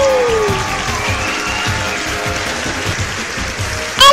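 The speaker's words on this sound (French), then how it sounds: "C'est un tonnerre d'applaudissements pour Bibi!" A dense, steady roar of applause from an audience for a contestant in a show, loud and unbroken throughout, with a brief sharp squeak at the very end.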